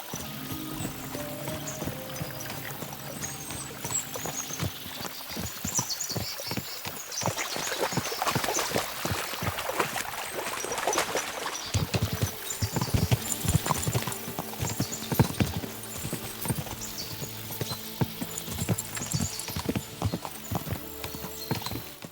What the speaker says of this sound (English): we'll give the horses a gallop again